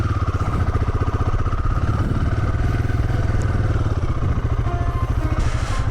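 Stock rental Royal Enfield Himalayan 450 motorcycle ridden off-road along a gravel station road near Hanmer Springs, New Zealand; steady close engine drone with rhythmic low thumping and clatter throughout, no talk.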